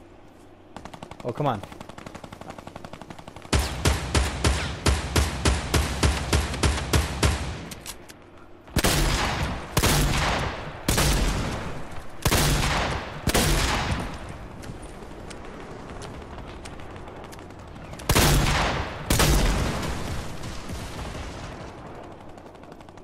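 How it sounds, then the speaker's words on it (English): Automatic gunfire from a minigun or light machine gun in Fortnite, loud and close: one long rapid burst followed by several shorter heavy bursts and a final volley, with a brief spoken remark in between. "Somebody having fun with a minigun or a light machine gun up here."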